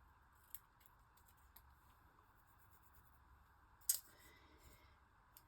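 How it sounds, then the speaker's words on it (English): Scissors snipping the corners off a sheet of paper in a small craft room, a few faint, sharp cuts spaced apart with one louder snip near the end. "I want to snip the corners off"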